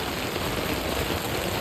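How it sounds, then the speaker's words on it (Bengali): Heavy rain pours down steadily on a city street in Dhaka, a dense, continuous hiss of drops striking surfaces close by, with no voices. "কী পরিমাণ বৃষ্টি হচ্ছে দেখেন।"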